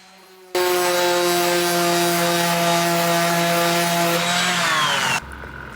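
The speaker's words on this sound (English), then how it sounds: "Right now we're just sanding it smooth, trying to keep the sandpaper as flat as I can." A dual-action sander works a car bumper with 180-grit sandpaper, starting abruptly into a loud, steady whine with strong harmonic tones that holds for about five seconds, its pitch sliding down briefly before the tool cuts off.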